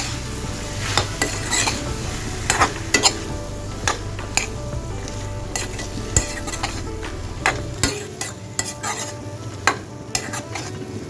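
Boiled peas and paste stirred into a frying pan for Assamese ghugni, with a continuous sizzle and repeated scrapes and taps of a spoon against the metal pan, close and steady.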